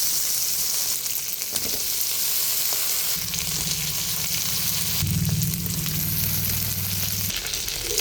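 Diced potatoes fry in a pan with green cardamom, cumin, bay leaf and mixed spices, giving a steady close sizzle and crackle, with scraping stirs partway through.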